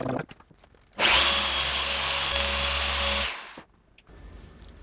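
A machine polisher runs on thick paint protection film on a Ferrari 296, a loud steady whirring drone of about two seconds that shifts pitch partway through, with quieter handling noises before and after.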